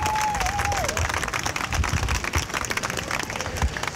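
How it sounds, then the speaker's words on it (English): Audience applause at a 2012 Christmas parade in Henderson, Texas: dense, steady clapping from a crowd that carries on evenly for several seconds, with a brief whistle-like tone near the start. "help me with a round of applause for that group"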